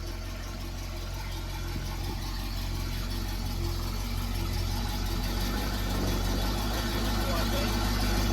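An old muscle car's engine idles steadily and running rich, a low, continuous rumble that swells slightly over several seconds, heard close with no speech.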